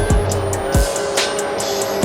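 A small mini bike ridden in GTA 5, its engine a steady, loud buzzing drone with repeated quick rising pitch sweeps as it revs, close and continuous with no talk.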